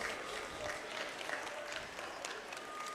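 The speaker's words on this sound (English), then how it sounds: "Crowd giving him a nice round of applause" Grandstand crowd at a county fair harness race applauding the winning horse and driver, a steady wash of clapping heard from a distance at moderate volume throughout.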